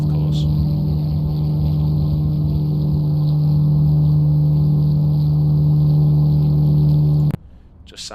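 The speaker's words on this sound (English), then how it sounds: "this is the sound of the outside of the P-51. The default sounds, of course." A P-51 Mustang's default exterior engine sound in Microsoft Flight Simulator: a steady, loud, monotone piston drone holding one pitch for about seven seconds, then cutting off abruptly to a quieter rumble.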